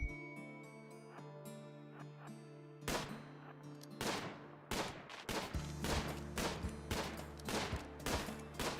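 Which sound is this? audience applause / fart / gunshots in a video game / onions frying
gunshots in a video game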